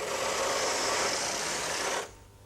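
Brother KH 950i electronic knitting machine carriage sliding across the needle bed to select pattern needles, a steady whirring rasp for about two seconds that stops abruptly, leaving quiet room tone.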